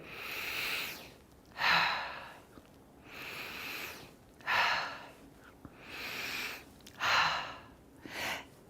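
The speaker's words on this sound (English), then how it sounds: "You just want to breathe it. Just breathe deeply." Slow, deep breaths drawn in and let out close to the mic, about four full cycles, as someone smells an essential oil blend of black spruce, camphor and blue tansy.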